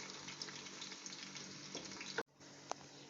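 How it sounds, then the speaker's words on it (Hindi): Onions fry in hot oil until browning for an Afghani-style pilaf, a low steady sizzle at moderate distance, broken by a brief sharp knock and a short pause before the hiss resumes. "तेल गरम करके प्याज डाल देनी है ब्राउन करने के लिए।"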